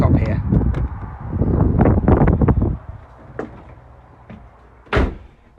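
Door of a 2022 KNAUS North Star 590 UE caravan with a deadlock system, handled close by with several sharp clacks and knocks and a final firm latch near the end, under someone talking.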